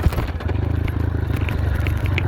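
Dirt bike at speed on a dirt track, engine droning steadily with a harsh scratching, crackling edge through a gear shift, close and continuous throughout.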